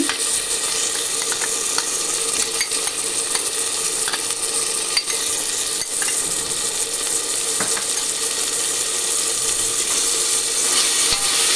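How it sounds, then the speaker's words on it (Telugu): Mutton with ginger paste fries in a pan, a steady close sizzle with occasional scraping and clicking of a spoon stirring against the pan, continuous and without talk. "ఇది కూడా ఒక 2 నిమిషాలు వేగిన తర్వాత ఇది కూడా బాగా వేగాలి"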